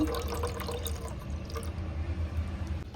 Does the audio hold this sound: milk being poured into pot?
yes